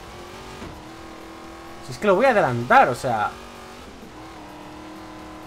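The Twin Mill Hot Wheels car in Forza Horizon 3 hums steadily, then rises into a short burst of revving engine notes in the middle before settling back, with someone talking over it.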